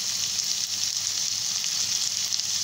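Chopped capsicum hits a hot pan while cooking chicken Manchurian, giving a steady, bright, hissing sizzle that stays even and fairly close throughout, with no talking.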